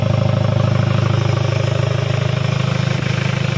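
A Hyundai Starex engine with a broken turbo runs loud and close, a heavy pulsing clatter with a fast regular throb throughout and no talk.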